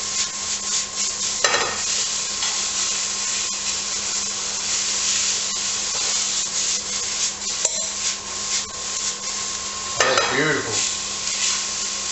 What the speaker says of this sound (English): 2 teaspoons of garlic. I'll just give that a mix in with these onions.